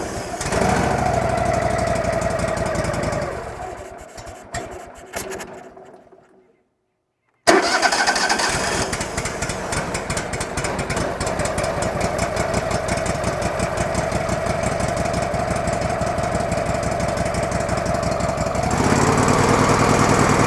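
Small carbureted engine being started, sputtering briefly and dying to silence, then catching and running steadily with a loud, fast, even putter that rises slightly near the end.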